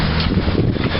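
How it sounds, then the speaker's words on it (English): Gusty wind buffets the microphone with low rumbling bursts, loud and constant across the short clip, outdoors beside a 1978 Dodge Power Wagon. "Sorry about the wind."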